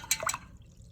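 A brush carries water from a water jar into wet watercolor paint on a night sky painting, giving a brief, faint, close trickle and drip with a couple of tiny splashes.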